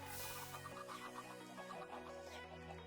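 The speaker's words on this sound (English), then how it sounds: "I just heard the first chicken go." Video game chickens cluck and squawk at a farm under steady game background music, a cluster of short rhythmic clucks at moderate distance with no talk over them.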